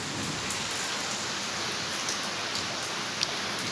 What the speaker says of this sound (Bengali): এই যে বৃষ্টি হচ্ছে দেখো সর্বক্ষণ বৃষ্টি হয়েই যাচ্ছে